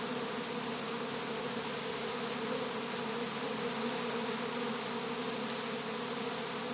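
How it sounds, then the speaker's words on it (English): A swarm of honey bees buzzes at close range outdoors, a dense, continuous drone of many wings that stays steady and loud throughout, with no speech. "here's my Armageddon bees"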